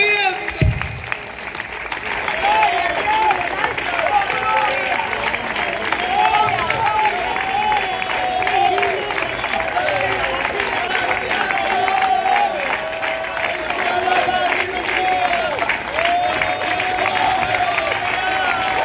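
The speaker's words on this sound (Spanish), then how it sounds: "no te distraigas, sigue aplaudiendo." Congregation clapping steadily at a live Spanish-language worship service, a dense sustained wash of applause with cheering voices mixed in, loud and continuous throughout.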